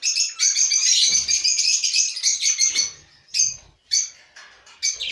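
Budgerigars kept as pets chirp and warble rapidly in a dense, bright chatter for several seconds close by, then break into a few short, separate chirps with pauses in between.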